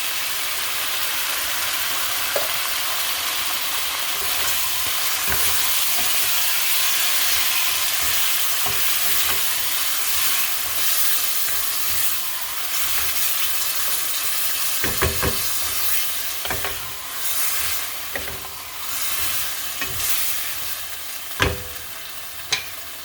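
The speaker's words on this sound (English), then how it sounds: "I'm going to go ahead and add the tomato sauce" Tomato sauce added to a hot pan for beef kaldareta, a loud steady hiss of sizzling with repeated scraping stirs and occasional sharp spoon knocks against the pan, no voices.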